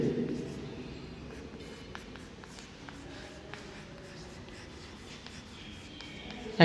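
Pen or chalk scratching out an algebraic expression with three terms during a Class 10 polynomial lesson, a series of short strokes and taps under continuous speech from a teacher.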